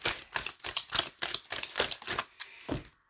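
Tarot cards are shuffled and drawn, giving a quick run of crisp, close snapping flicks in an irregular rhythm, with no voices.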